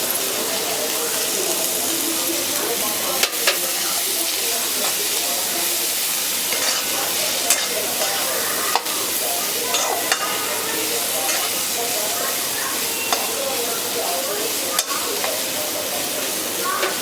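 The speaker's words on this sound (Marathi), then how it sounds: "गवार पण चांगली परतून झालेली आहे।" Cluster beans with crushed peanut powder sauté in a pan, giving a steady close sizzle with scraping stirs and occasional sharp clicks of the spatula.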